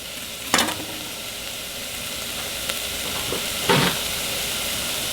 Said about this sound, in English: cook this till the onions get transparent